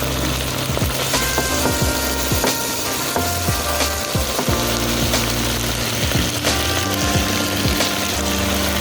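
Water spinach (kangkong) stalks frying in a pan with shrimp, a loud, continuous close-up sizzle with occasional crackles and stirring.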